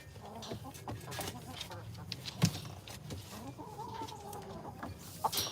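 Chickens cluck softly inside a chicken coop used as a compost bin, scattered calls over a steady outdoor murmur with a couple of louder clucks.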